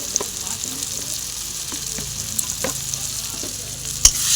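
Spices frying in oil with a little sugar in a pan, a steady soft sizzle with faint stirring taps and a sharp clink near the end.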